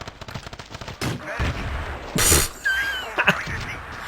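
Pistol fire in Battlefield 2 on PC, a series of sharp shots rattling off in bursts, some louder and closer, with scattered echoing reports and brief tonal whistles in between.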